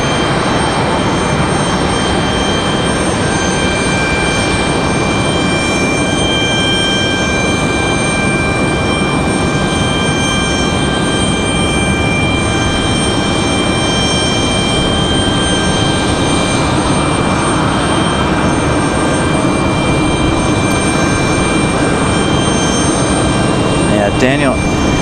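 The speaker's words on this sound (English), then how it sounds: "enjoy the C-17" A Boeing C-17 military transport jet at Raleigh-Durham International roars steadily and loudly for the whole stretch, a broad continuous engine rumble with a faint high whine, while someone talks over it now and then.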